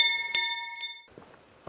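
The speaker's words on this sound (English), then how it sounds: "he's just working that bell" A bell rung in the video game Kingdom Come Deliverance: two sharp, bright metallic strikes with long ringing overtones, the second softer, then fading into low scattered background clatter.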